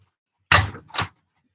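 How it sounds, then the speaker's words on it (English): A noisy door creaks and thuds twice in quick succession, close and loud in an otherwise quiet room. "The door is so noisy."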